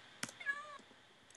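A cat meows once in the Minecraft video game, a short rising-falling in-game cry preceded by a sharp click, fairly quiet and alone.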